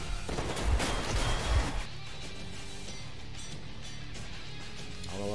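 Gunfire in a Metro video game, a dense cluster of loud shots in the first two seconds, then game ambience and music continuing without further shots.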